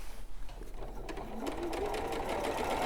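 A sewing machine runs steadily, stitching a pinned four-patch block for a winter quilt, its motor hum and needle chatter continuous and close at moderate volume.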